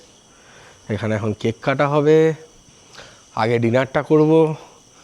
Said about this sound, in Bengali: আর নানান ঝিঝি পোকার ডাক, বিভিন্ন ধরনের পোকার ডাক ভেসে আসছে।